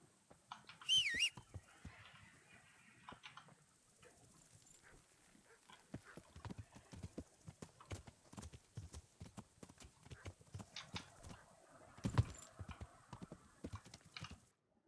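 Horse hooves clip-clopping at a walking pace in Kingdom Come: Deliverance, an irregular run of soft thuds with a few sharper accents and faint background game ambience.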